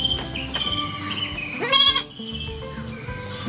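A goat bleats on a farm in a steady, wavering cry, with another short bleat near the end, over low farmyard background noise.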